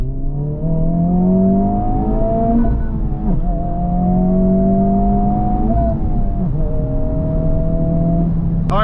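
A 2024 Honda Civic Type R accelerates hard through several gears, its engine note climbing in repeated rising sweeps broken by brief dips at each shift, loud and close from inside the cabin.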